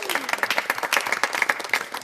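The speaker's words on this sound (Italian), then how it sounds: "Io farei un applauso" Audience applause at a Shakespeare-themed dinner event: a room of people clapping in quick, uneven bursts, fairly close and lively, with a brief voice at the start.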